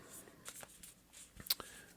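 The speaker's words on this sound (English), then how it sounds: "Heart cards are always fun to shuffle." Tarot cards are shuffled by hand in a few soft, brief riffling bursts, quiet and close, with faint handling noises between them.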